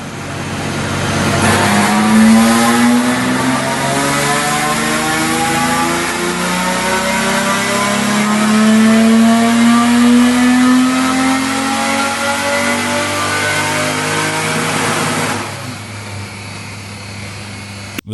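A high-revving race engine with a rotating-firing-order 12-into-1 header screams continuously, its pitch climbing and falling through gear changes, loud and close, before cutting off abruptly near the end.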